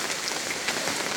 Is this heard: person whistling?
no